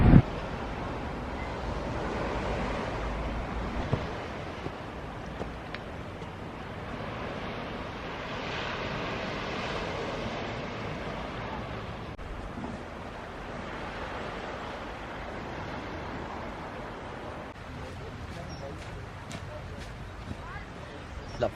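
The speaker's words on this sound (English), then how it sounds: "Love this beach. Where are we to? Porthminster Beach." Surf on Porthminster Beach in St Ives, Cornwall, washes in as a steady, broad rushing roar mixed with wind buffeting the microphone, continuing throughout at moderate distance.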